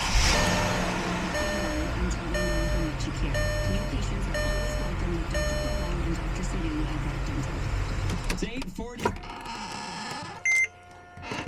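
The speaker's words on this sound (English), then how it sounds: "So now we use the new one to start the car." A 1997-2014 Mercedes car is started with a newly programmed infrared key: repeated electronic chime beeps sound over a steady low engine rumble, then everything cuts out abruptly near the end, leaving a brief tone and quieter noise.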